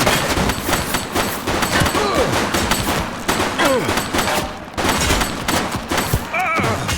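Dense, continuous gunfire from a shootout in the police game Precinct, with overlapping rapid bursts and single shots filling the whole stretch, loud and close, with shouted voices mixed in.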